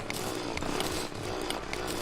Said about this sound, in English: I hope you all don't mind the drilling sound